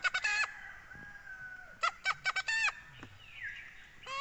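Roosters crow repeatedly, loud and close, with several overlapping cock-a-doodle-doo calls answering each other and a longer drawn-out crow near the end.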